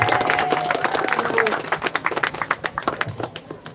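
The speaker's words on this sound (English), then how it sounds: "So another round of applause for Paul," Crowd clapping at an outdoor protest against HMO housing in Broadstairs, a scattered round of applause that starts dense and thins into separate claps, with voices talking over it.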